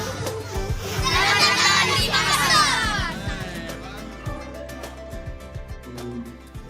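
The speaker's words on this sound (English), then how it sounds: "Wow, tonight has been crazy. Such a big crowd." A big crowd of children shouting and cheering outdoors at night in Makassar, a dense burst of excited young voices that thins out into scattered calls and knocks.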